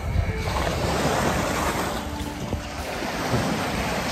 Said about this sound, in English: So now we on the beach.